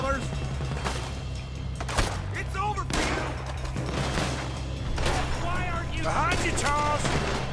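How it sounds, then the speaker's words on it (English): Gunfire in a shootout during a gang robbery of a rival gang's house in Red Dead Redemption 2, loud bursts and shots over a constant low rumble of battle, with voices calling out between the shots. "Looks like we're shooting our way out of here, fellas."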